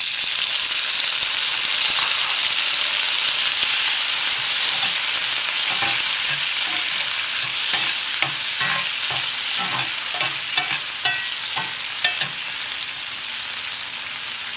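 Tomatoes fry with curry leaves in a hot oiled pan for a Pudukkottai-style egg dish, giving a loud continuous sizzle with a string of quick scraping stirs toward the end and no talking.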